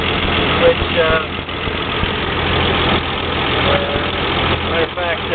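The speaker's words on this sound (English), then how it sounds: "So we have just a tiny leak out of the exhaust right here" A 1932 car engine idles with a small exhaust leak, giving a steady low rumble and faint puffing close by, while a person talks over it.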